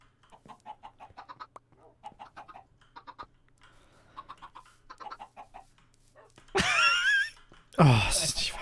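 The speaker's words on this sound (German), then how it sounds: "Hier ist ein Huhn draußen." Minecraft chickens clucking in short repeated bursts, near and clear, with louder squawky calls toward the end, while people talk over them.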